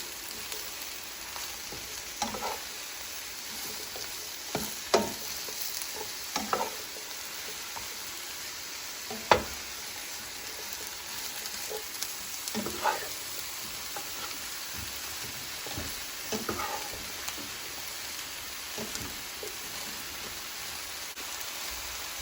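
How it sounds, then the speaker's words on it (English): Three or four tiny sliced onions sauté in a pan with a steady, fairly quiet sizzle and occasional soft stirring clicks and pops, no voices over it. "I'm probably gonna slice up 3 or 4 little tiny onions and saute them up"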